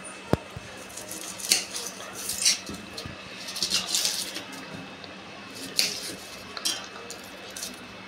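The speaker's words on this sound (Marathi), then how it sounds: "पहिले आपण कांदा कापून घेणार आहोत" Onion being cut with a knife for besan pithla, a run of soft irregular taps and squishy cuts at close range over faint background noise.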